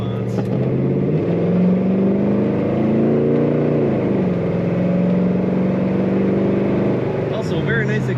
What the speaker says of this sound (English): Also a very nice exhaust note if you can hear that.